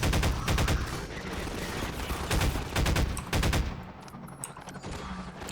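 Gunfire in the video game Half-Life 2: Episode One, bursts of rapid, loud automatic shots that ring out repeatedly, then a quieter stretch near the end.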